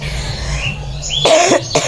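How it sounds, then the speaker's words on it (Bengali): A person with a bad cold coughs in a couple of close, harsh bursts near the end, after a stretch of steady low room hum. "শুধু কাশি হচ্ছে"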